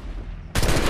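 A single loud gunshot goes off in Assassin's Creed 3, abruptly cutting in after a brief stretch of quieter game ambience.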